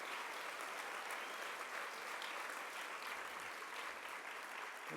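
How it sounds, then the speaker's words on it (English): Conference audience applauding at an education event, a dense, even wash of clapping from many hands that holds steady throughout, heard from some distance. "Give yourself a great round of applause."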